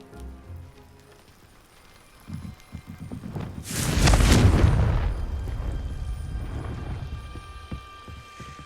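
A Confringo fire spell blasts apart a pile of debris in Hogwarts Legacy: one sudden, loud, full-bodied explosion bursts midway, then fades into a rumbling, crackling decay over quiet ambient game sound.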